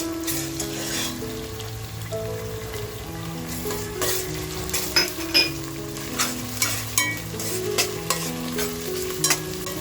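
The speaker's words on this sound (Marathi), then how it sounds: "आता बघा अद्रक लसूण आणि मिरचीचा जो टेचा केलाय तो टाकून घेते" A paste of ginger, garlic and green chili sautés in a pan for prawn biryani, a loud continuous sizzle punctuated by rhythmic stirring scrapes, with low steady tones running underneath.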